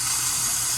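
Water runs steadily from the bathroom sink faucet of an RV during water system sanitizing, a close continuous rushing hiss with no talking.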